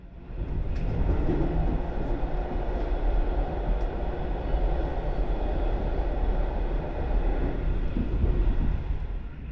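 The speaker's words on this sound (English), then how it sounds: "Leaving Stockholm, our train quickly picks up the speed, crossing over the Årsta bridges in the south of Stockholm." Passenger train of a Swedish retro operator running at speed out of Stockholm across the Årsta bridges, a steady loud rumble and rattle of wheels on rails lasting throughout with faint clicks on top.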